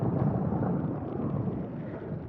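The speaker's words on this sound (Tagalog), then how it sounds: "So, yan nga, lakas ng ulan." Heavy rain from Super Typhoon Kristine pours down steadily in a dense, continuous roar with no talking.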